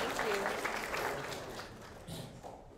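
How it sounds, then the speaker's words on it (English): A room of attendees at a hackathon machine learning workshop gives a short round of applause, moderate clapping that fades over a couple of seconds while a voice speaks over it. "And a round of applause for Cheryl as well, everyone."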